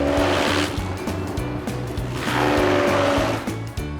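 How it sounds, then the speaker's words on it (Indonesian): A grass-chopping machine shreds grass for animal feed, a loud, steady mechanical roar driven by a fast, regular thumping pulse from the blades. "rumput-rumput perlu dicacah terlebih dulu pakai mesin ini"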